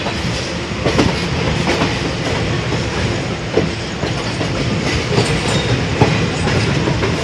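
A passenger train rumbles steadily along through Dum Dum, Kolkata, with a rhythmic clickety-clack of wheels over the rails, loud and continuous throughout.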